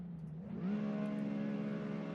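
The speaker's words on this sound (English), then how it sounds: "I just want y'all to be able to hear the car." Car engine in a manual-drift driving game rises from idle into a steady, sustained drone, heard fairly quietly and alone.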